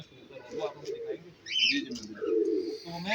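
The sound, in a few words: racing pigeons cooing on a rooftop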